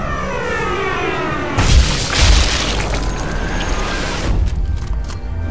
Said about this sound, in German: Die Explosionen sind besser